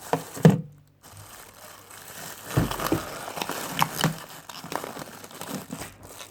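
A plastic bag holding a handheld brick game console is torn open and crinkled at close range. Sharp tearing bursts are followed by scattered crinkling and rustling, fairly soft and with no one talking.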